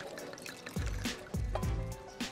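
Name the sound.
pouring red wine over apples in a saucepan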